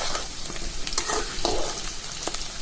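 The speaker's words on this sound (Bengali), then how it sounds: "এদিকে আলুটাও ভাজা হচ্ছে" Potatoes frying in oil in a pan for a coconut-milk egg curry: a steady, close sizzle with scattered stirring scrapes and clinks, and no talking.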